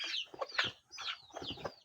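A chicken being put into a cardboard box gives a few quick, close clucks and squawks in two short bursts separated by a brief pause.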